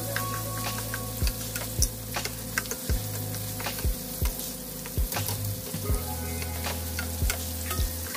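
Shrimp fry in a pan with a continuous crackling sizzle, scattered pops and ticks rising over the steady hiss, close and fairly loud, with no voices.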